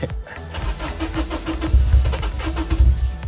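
The starter of a Honda S2000 cranks the engine in short repeated bursts, a rhythmic whirring churn up close that is held briefly, released and tried again, with no voices.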